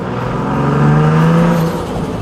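A car engine revs up and holds a rising, droning pitch before easing off, loud and close throughout with no voices over it.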